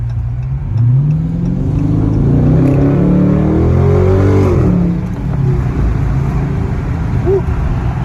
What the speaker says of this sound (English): You give it a little bit of throttle and you're already slipping all over the place.